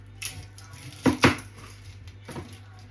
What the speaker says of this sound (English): Cut the onions.